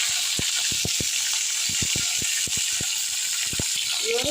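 Garden-grown eggplant sautés in a pan for a garlic kulambu, a steady hiss of frying oil broken by sharp irregular pops and crackles, close and without talk.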